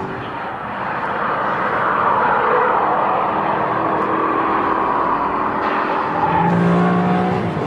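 A Ferrari Formula One car screams past at high speed on Ferrari's test track, its high-revving engine a loud, sustained roar that rises and falls in pitch as it accelerates and shifts, with no voices over it.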